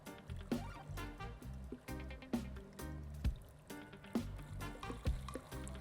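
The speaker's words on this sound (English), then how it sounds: "And I'm pouring this on pretty quickly." About three gallons of water poured quickly onto a permeable paver surface, splashing and trickling in a steady stream with repeated drips and gurgles, close and fairly clear.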